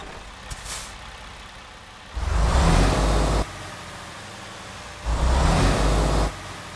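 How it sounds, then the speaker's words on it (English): Western Star 57X truck in American Truck Simulator, a loud rumbling engine burst with a hissing air-brake quality, repeated twice with a quieter idle between. Each burst lasts over a second and is close and heavy. "let's go ahead and get this Western Star 57X started up and get on the road."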